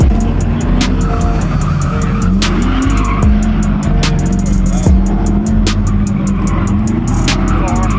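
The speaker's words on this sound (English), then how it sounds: "We're gonna watch some autocross." Cars race through an autocross course at a Goodguys fall event, with loud engine revs rising and falling and repeated tire squeals as they corner, continuous throughout with no clear talk.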